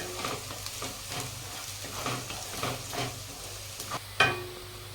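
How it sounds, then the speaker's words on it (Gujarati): Chopped ginger, garlic and green chillies sizzling in hot oil in a pan, a crackling fry with repeated stirring strokes and a sharper clink near the end, close and moderately loud. "3 નંગ લસણની કળી લીધી કટ કરી, અને 2 લીલા મરચાં કટ કરીને લીધા એ નાખીશું"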